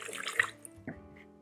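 A cup of water poured over dates for a caramel sauce, a short trickling splash followed by faint drips and a small clink, fairly quiet and close.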